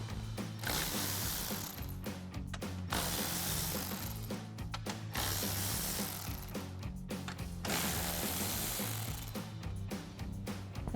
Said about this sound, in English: we're going to remove the 4 10mm screws holding the top of the grille in place using our